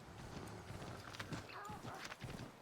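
Horse hooves clip-clop steadily in Assassin's Creed 3 Remastered, a near, continuous trotting rhythm with a brief whinny-like cry midway, all under someone talking over the game.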